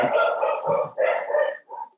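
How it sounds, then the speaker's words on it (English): A doodle dog barks inside a house, a run of short, hoarse, close barks in quick bursts with brief gaps, fairly loud and alone. "Somewhere there's a dog barking in my house."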